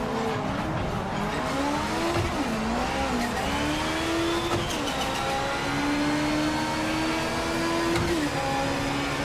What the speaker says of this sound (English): Look at that Porsche go